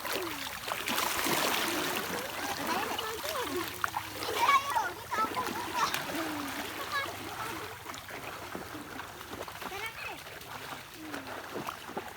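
Rushing sea water splashes and churns steadily nearby in a strong current while several people, including children, talk and call out in Filipino over it.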